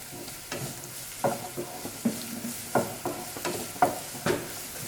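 Cabbage and chopped capsicum stir-frying for restaurant-style chicken fried rice, a low sizzle under a series of sharp scraping and tossing strokes against the pan, roughly one or two per second.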